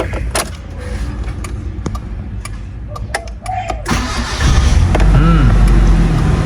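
A 2003 Mitsubishi Kuda Grandia engine cranks and catches after a few scattered clicks, then settles into a loud, steady idle close by.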